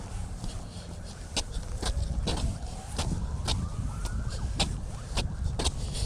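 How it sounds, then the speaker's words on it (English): A faint siren wails in the distance beneath steady traffic rumble, its pitch sliding slowly, while regular crunching footsteps pass close by. "Sirens in the background"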